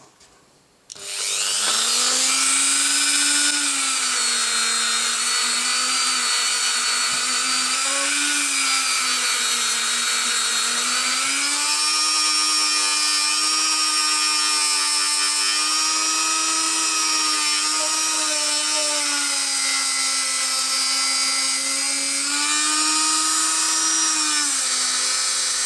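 A power tool polishing the cap of a vintage Tamiya Bruiser shock absorber spins up after a second into a loud, continuous high whine, its pitch wavering slightly as the part is worked, then cuts off at the end.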